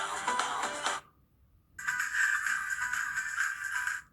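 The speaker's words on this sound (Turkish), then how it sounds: "Çünkü saatten çalıyordu daha demin arkadaşlar." A T500 smartwatch rings with a bright, steady electronic ringtone. It plays loudly, stops for under a second, then starts again and continues, close to the microphone.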